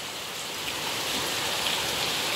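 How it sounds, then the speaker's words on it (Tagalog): Afternoon rain falls steadily on surfaces, a dense, even hiss of drops that stays constant and fairly loud, with no voices. "Dito maulan. Maulan dito sa amin."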